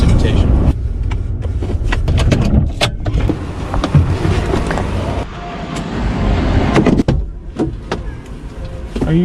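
Car driving along a road in Cumberland County, Pennsylvania, with steady tire and engine rumble inside the cabin, occasional clicks and knocks, and people talking over the road noise.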